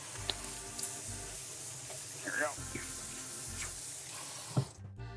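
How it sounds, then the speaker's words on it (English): Hands being washed under a running kitchen tap, a steady close rush of water with small splashes and shifts as the hands move, ending abruptly when the flow is cut. "I should probably wash my hands a little bit, so I get the chicken grime off my hands."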